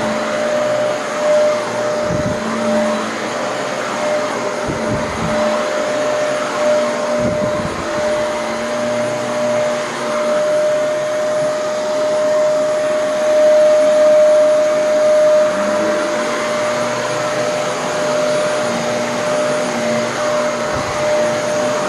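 A Shark Rotator XL NV90 upright vacuum cleaner runs steadily throughout, a loud continuous motor whine with a sustained tonal hum and brief dips as the machine is pushed across the floor.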